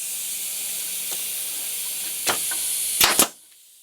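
Leaky pneumatic stapler with a replaced air valve body: a steady air hiss, a brief burst, then two sharp pneumatic blasts as a staple fires and oil sprays, followed by sudden quiet.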